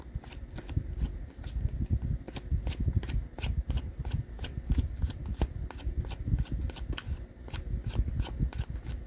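Tarot cards shuffled during a card reading: a steady run of crisp riffling flutters and soft slaps that repeats close up without any talk.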